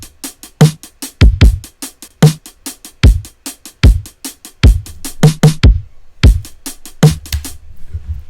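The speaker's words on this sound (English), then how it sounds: "So without the delay on my drums, they sound like this." A processed drum beat in Ableton Live, dry with no delay, plays punchy kicks and crisp snare and hi-hat hits in a steady groove, loud and upfront with no talking.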